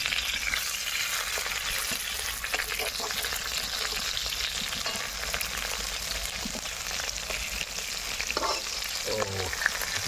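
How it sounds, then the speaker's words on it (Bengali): Gourd-leaf fritters fry crisp in hot oil, producing a loud, continuous dense sizzle throughout, with a few faint background voices and clatter near the end. "সুন্দর মচমচে ভাজা হয়ে গেছে"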